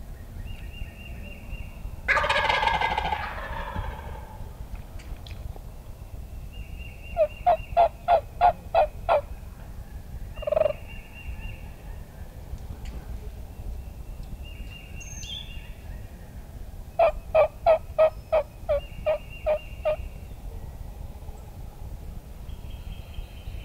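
A wild turkey tom gobbles loudly in rapid bursts, separated by softer yelping hen calls and quiet outdoor background.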